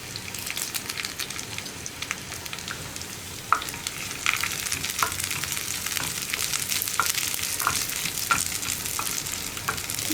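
Dried red chilies and curry leaves sizzle steadily in hot frying oil with onions for a bitter gourd curry, a constant crackling hiss with occasional sharper pops and a stirring clatter.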